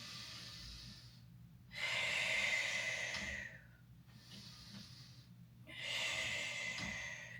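Breath is pushed out in long, hissing exhales during a Pilates exercise on a reformer machine, two loud airy bursts with a softer one between, close to the mic and with no talking.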